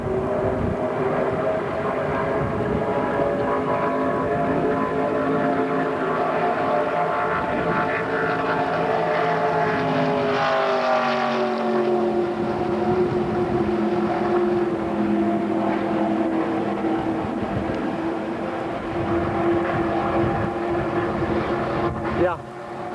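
A race car lapping Atlanta Motor Speedway, its engine a loud, continuous droning whine that rises and falls slightly in pitch over more than twenty seconds without a break.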